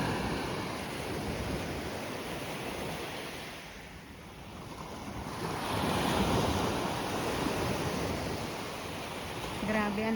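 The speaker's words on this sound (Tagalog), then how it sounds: "Grabe, ang lakas ng hampas ng alon." Heavy surf rolling and crashing continuously at Playa Nanín, Sanxenxo, Pontevedra, with strong wind buffeting the microphone, easing briefly in the middle before surging back.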